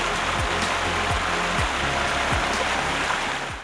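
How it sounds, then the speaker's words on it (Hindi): A flowing waterfall at a scenic mountain spot, making a steady, dense rush of water that stays loud and even throughout. "बस बहते झरने और आबशार का शोर है"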